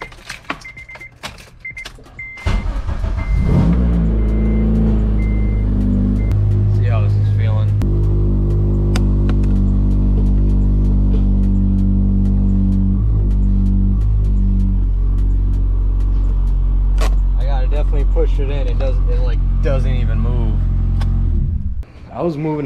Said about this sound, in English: let's start up the car